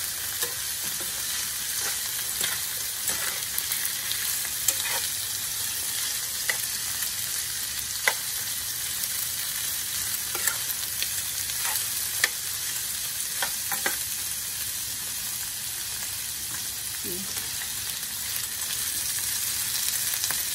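Shrimp and string beans sizzle steadily in a hot pan while being stirred, with scattered scrapes and light clinks of the utensil over a continuous frying hiss, moderately close.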